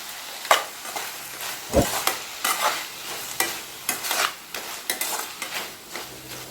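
Vegetables for a Tamil veg curry kulambu sautéing in a pan, a steady sizzle broken by repeated scraping stir strokes and occasional utensil knocks, close and fairly loud with no talking.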